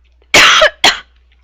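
Two harsh coughs close to the microphone, one longer and then a shorter one after a brief pause, with silence around them.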